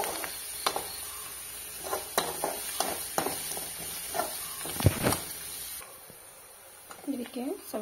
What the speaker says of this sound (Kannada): ಎಲ್ಲವನ್ನು ಚೆನ್ನಾಗಿ ಫ್ರೈ ಮಾಡ್ಕೊಳ್ಳಿ.